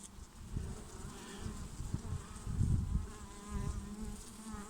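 Honeybees buzz in a steady, close drone around an opened beehive as a frame is lifted, the hum swelling and easing slightly in intensity.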